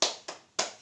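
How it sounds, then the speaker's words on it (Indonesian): A teacher's hands clap out a rhythmic classroom clapping chant: three crisp, close claps spaced evenly, each ringing briefly before the next. "sekarang Miss akan mempraktekkan tepuk PPK."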